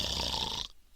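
A voice imitates a long, rough snore, raspy and close, which cuts off abruptly near the end, leaving quiet.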